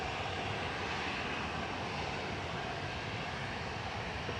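Broad, steady roar of a passenger jet aircraft at Manchester Airport, a continuous engine wash holding at even loudness throughout with no voices.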